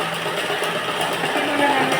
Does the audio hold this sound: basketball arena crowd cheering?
no